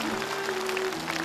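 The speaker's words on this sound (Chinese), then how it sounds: "我想我们大家用掌声" Studio audience clapping on a Chinese television show, a brief, steady wash of applause with a faint sustained tone running underneath.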